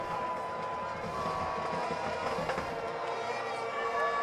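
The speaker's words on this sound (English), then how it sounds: "The Connetquot crowd right in front of us loud after that TD." A high school football crowd at a Connetquot playoff game roars steadily after a touchdown, a dense, sustained wall of cheering and noise heard from a nearby booth.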